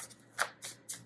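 A deck of tarot cards shuffled by hand in three quick, crisp riffling bursts, close up and fairly quiet, with no voices.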